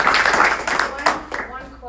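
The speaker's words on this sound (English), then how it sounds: "And can we give a round of applause for Ryan?" An audience at a founders' presentation gives a short burst of applause that fades within a couple of seconds, while voices talk over and after the clapping.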